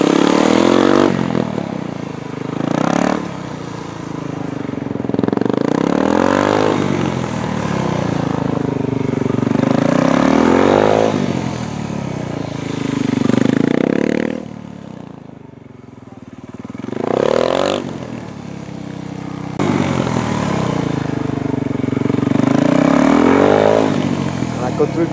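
A motorcycle engine revs repeatedly, with loud rising and falling surges separated by brief drops to idle, close by and dominating throughout.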